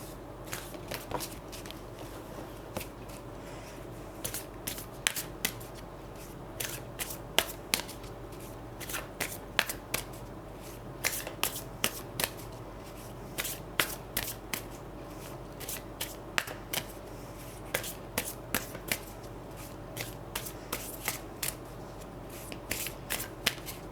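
Tarot and oracle cards are shuffled by hand in a close, crisp run of riffling flicks and sharp snaps, repeated steadily over a quiet background.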